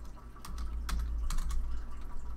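Someone types a pip command for Python on a computer keyboard, a short burst of crisp key clicks in an uneven rhythm over a low room hum.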